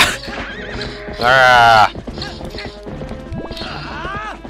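A horse neighs loudly in Zelda: Twilight Princess, a strong whinny near the middle, amid game hits and clatter, with a man's short exclamations and further horse calls near the end.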